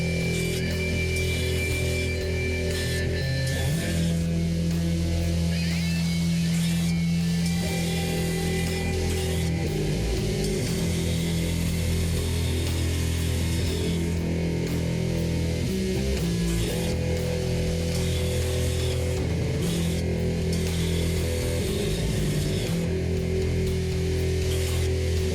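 Surface grinder fitted with a 60 grit wheel works both sides of a tanto knife blade, giving a steady, continuous whine and hiss with a low motor hum, unbroken throughout and with no talking.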